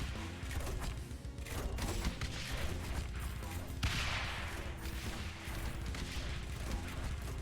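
Mortar towers in the tower-defense game Rogue Tower fire in a dense, continuous barrage of loud overlapping booms and impacts, sustained throughout with no pauses.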